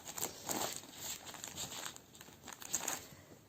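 Cross-stitch fabric is unwrapped from its plastic packaging, giving soft close crinkling and rustling in uneven bursts at low volume.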